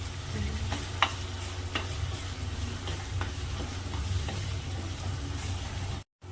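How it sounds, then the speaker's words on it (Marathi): Ground masala sautéing on a gas stove for a village-style spicy chicken curry, a steady low sizzle with scraping stirs of a spoon in the pan, close and continuous, cutting off briefly near the end. "स्लो गॅसवर मी परतून घेत आहे मसाला"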